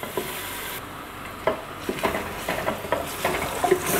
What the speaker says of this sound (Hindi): चलिए 2 मिनट हो गए हैं हमें गार्लिक और जिंजर अदरक लहसुन की पेस्ट को भूनते हुए।